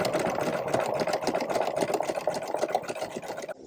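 A sewing machine stitches through old jean denim for a tote bag, a fast, steady mechanical whirring with a rapid needle rhythm, close and continuous before stopping abruptly at the end.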